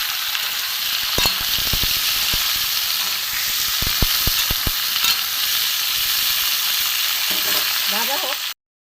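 Chopped green tomatoes sizzle in hot oil with mustard seed and dried red chilli tempering, a loud continuous frying hiss broken by several sharp clicks and pops and a few stirs near the end.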